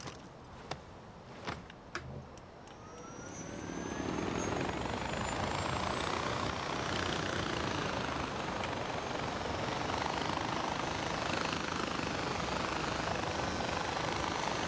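A helicopter in Far Cry 2 starts up and builds to a steady, loud rotor and engine roar with a rising whine, after a few sharp clicks and thumps at the start.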